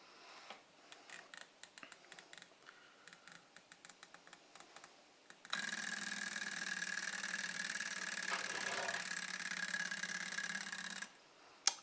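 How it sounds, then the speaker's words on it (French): A camera is triggered again: a run of sharp, irregular mechanical clicks and ticks, then a continuous whirring mechanism that runs for about six seconds and stops abruptly, close and fairly quiet, with no voices. "et on va redéclencher l'appareil."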